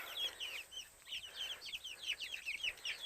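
Young chickens chirp and cluck inside a small coop, a busy, continuous chorus of high, quick peeps at moderate distance with no talking.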